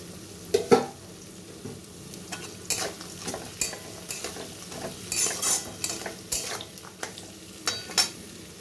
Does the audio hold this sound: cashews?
yes